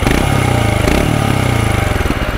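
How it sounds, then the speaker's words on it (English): A 2022 Royal Enfield Himalayan single-cylinder engine thumps loud and close, its rapid, even pulsing beat holding steady throughout with no voices over it. "This old school thumper sound."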